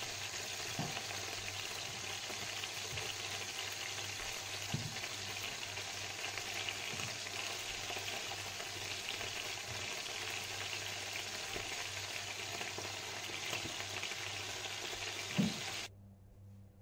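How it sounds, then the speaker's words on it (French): Beef broth with vegetables and bones, covered with water, boiling in a pot: a steady, dense bubbling hiss runs unbroken throughout, with no talking. "Et vous attendez jusqu'à que ça boue."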